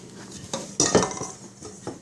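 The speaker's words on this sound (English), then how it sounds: "now we're going to transfer our dough over to our pans" Shortbread dough being scraped and pressed into metal baking pans, scattered scraping and clattering with one louder clank, close and continuous without speech.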